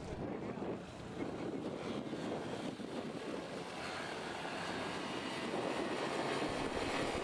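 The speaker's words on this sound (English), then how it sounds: "Eric hadn't had a chance, I don't think, to fly this Vega chute before. He wants to give it a little run" A powered parachute flies under a Vega chute as a steady, broadband engine drone mixed with wind rush, holding even and fairly loud throughout with no talking.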